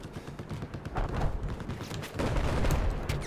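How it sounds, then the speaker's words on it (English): Gunfire in the video game Battlefield 4, a dense, continuous crackle of rapid shots at moderate loudness that swells slightly toward the end, with no talking. "I'm being shot at now, because I'm in the open"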